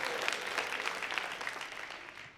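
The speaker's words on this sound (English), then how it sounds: "The Nigerians, go ahead and cheer right now." A comedy-show audience claps and cheers in a short, fairly faint burst that fades out at the end.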